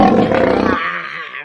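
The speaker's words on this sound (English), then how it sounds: "Just then the lion growled" A lion's loud, close growl rumbles for under a second, then trails off into a fading low rumble, with no talking.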